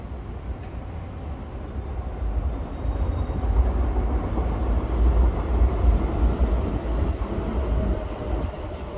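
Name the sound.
Docklands Light Railway (DLR) train passing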